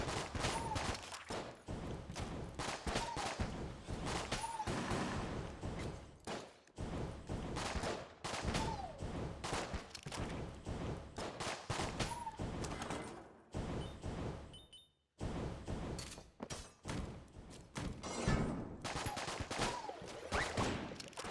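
Dense, rapid gunfire from the twin-stick bullet-hell game Enter the Gungeon, with continuous overlapping shots and bursts filling the whole stretch, briefly dropping out near the middle before resuming just as loud.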